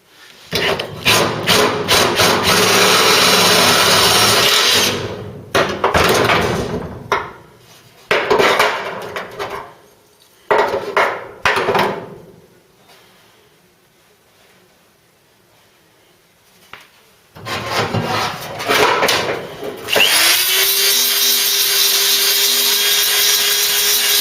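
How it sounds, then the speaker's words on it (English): An angle grinder cuts into metal panels during a Ford Cortina restoration, with loud harsh bursts of grinding broken by short pauses and a quiet gap, then a motor spinning up again near the end. "Under we go, and grind off we go."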